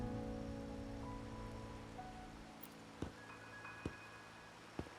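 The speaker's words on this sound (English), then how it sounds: "are you simply passing the time until the rain ends?" Steady rain hisses in a video game scene, fading after a few seconds, with a few soft taps afterward.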